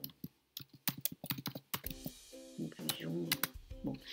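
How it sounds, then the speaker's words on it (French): Keystrokes on a computer keyboard come in quick uneven bursts of close, crisp clicks, with a person talking over and between the typing. "on va taper conclusion"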